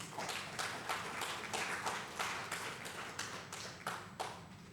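Audience at a village launch event clapping for a team member; a small group's rhythmic, fairly close claps in a steady pulsing pattern, moderately quiet and without talk.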